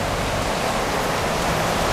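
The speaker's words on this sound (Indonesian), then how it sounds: "Hujan. Ini cuaca seblak banget nih." Rain falls steadily and heavily, a dense, continuous hiss of close, loud, unbroken noise for the whole stretch with no voices.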